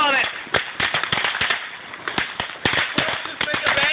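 Firecrackers go off in rapid irregular bursts of sharp cracks and pops, loud and close, with voices talking and shouting over them.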